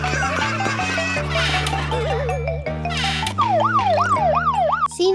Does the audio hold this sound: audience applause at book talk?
no